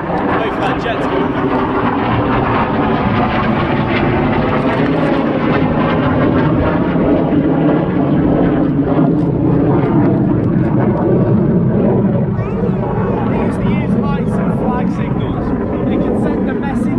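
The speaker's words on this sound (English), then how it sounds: "Wait for that jet to go." A jet aircraft passes overhead near the Liverpool waterfront, a loud, broad roar that fills the whole stretch and shifts slowly in pitch as it goes over, with someone talking beneath it.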